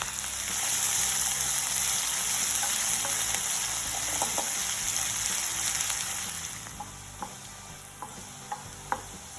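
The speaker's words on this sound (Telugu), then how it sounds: "ఒక త్రీ మీడియం సైజ్ ఆనియన్స్ని కట్ చేసుకొని వీటిని కూడా యాడ్ చేసుకొని ఫ్రై చేసుకోండి" Three medium onions frying in oil with cinnamon and shahi jeera for a spicy coriander mutton curry, a steady close sizzle with light stirring scrapes, easing later into softer crackling and occasional clinks.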